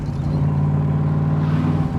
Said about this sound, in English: there's a reason I love driving these cars. Just listen to this. Just barely laying on the accelerator at all.